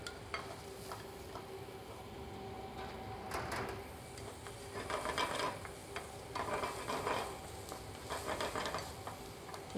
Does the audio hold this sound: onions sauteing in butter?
yes